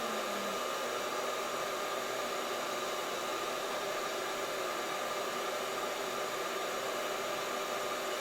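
The fan of a home coffee roaster blows with a constant, even hiss and whoosh, close and unbroken, with no talk over it.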